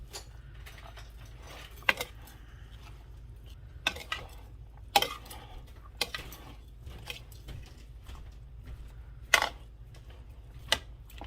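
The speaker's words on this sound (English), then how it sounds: "Stir it up." A spoon stirs a cowboy caviar bean dip in a bowl, making sparse, faint clinks and scrapes against the bowl over a quiet background hum.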